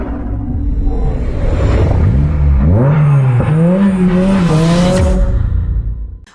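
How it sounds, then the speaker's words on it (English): A high-revving new Acura Integra engine climbs and falls through several sharp rev sweeps, loud and close, before cutting off at the end. "it sounds very reminiscent of the older high revving Honda motors with their high red lines and sweet sounds"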